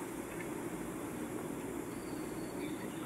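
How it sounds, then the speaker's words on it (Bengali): A steady, continuous rumble of a train rolling past nearby, with broad low roar and hiss throughout and no voices. "শুধু ট্রেনের শব্দ আর ট্রেনের শব্দ"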